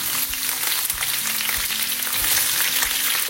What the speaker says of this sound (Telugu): ఈ ఆనియన్స్ కంప్లీట్ గోల్డెన్ బ్రౌన్ వచ్చేంత వరకు ఫ్రై అవ్వాలన్నమాట